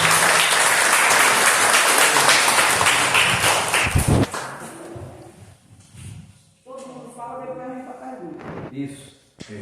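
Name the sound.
audience applauding the INCRA superintendent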